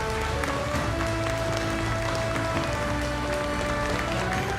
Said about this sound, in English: huge round of applause for Shri Priyank Kharge